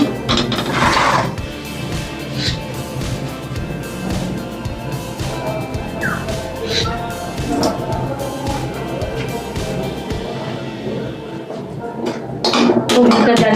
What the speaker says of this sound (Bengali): এবার বন্ধুরা আমি একটা কড়াই বসিয়ে দিলাম